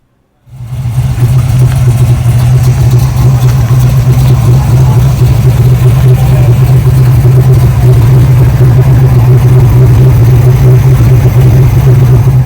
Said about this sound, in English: The next car is a 1971 Challenger RT with the numbers matching 440 6-pack and a 4-speed transmission.